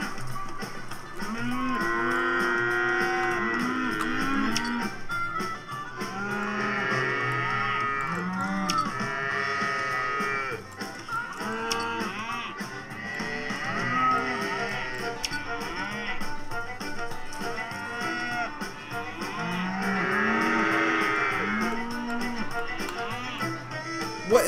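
Cartoonish cows in a video game moo repeatedly and overlap in a dense, continuous herd chorus of drawn-out bellowing calls, loud and steady throughout with no talk.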